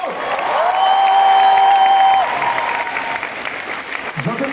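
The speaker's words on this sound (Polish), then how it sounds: "Jeszcze raz, brawo dla wszystkich rodziców!" Concert crowd in a Warsaw club applauds the parents, loud sustained clapping and cheering with a sung or whistled tone above it, then fading under a voice.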